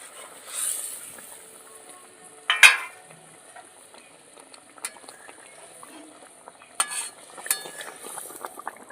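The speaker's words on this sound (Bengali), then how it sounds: "ঝোলটা ভালো মতন ফুটে উঠেছে ভেজে রাখা মাছগুলো দিয়ে দিচ্ছি" Fried pabda fish go into a bubbling mustard curry, bringing a few sharp splashes and clinks among a quiet, steady simmer and light sizzle, with no voices.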